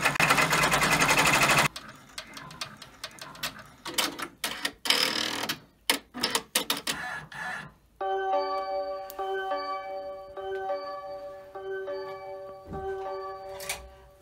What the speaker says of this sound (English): The placement run has finished stitching